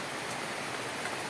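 Steady rain falling in a forest, an even, continuous hiss of drops with no voices, heard for a brief moment.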